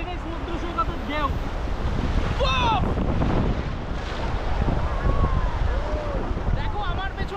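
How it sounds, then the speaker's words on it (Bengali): Big sea waves crash and roll steadily at Bakkhali beach, with a constant wash of surf and wind buffeting the microphone, under a voice. "পেছনে দেখো ঢেউটা দেখো কত বড় এখন বকখালির এই সমুদ্র সৈকতের ঢেউ।"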